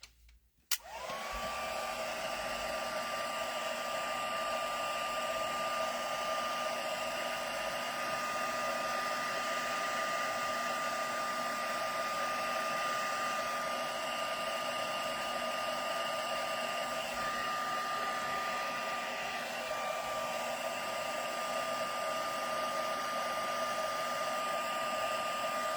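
A handheld heat tool clicks on and blows a loud, steady whirring whine for a long stretch while drying a floral craft project, with no speech over it.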